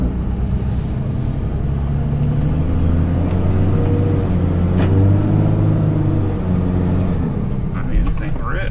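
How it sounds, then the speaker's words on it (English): A Cummins-powered diesel truck underway, its loud low rumble rising and dipping in pitch as the transmission shifts between gears, heard close from the cab. "It does that thing that's always so annoying where it shifts, like I think from second to third and then back to second."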